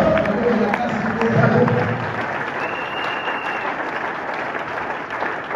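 A church congregation at a Sunday service in Brazzaville, Congo, breaks into loud, sustained applause and cheering that fills the room and slowly tapers off.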